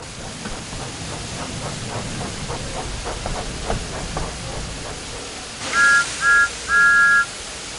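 Thomas the Tank Engine's steam whistle from the Thomas & Friends video game sounds as three loud, clear toots, two short and one longer, after a rhythmic chuffing of steam and wheels.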